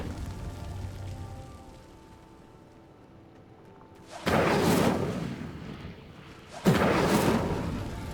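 Fire spell cast in Hogwarts Legacy, a fantasy video game, lighting pyres: two loud whooshing, crackling bursts of flame, each rising suddenly and then fading, over a quiet ambient background.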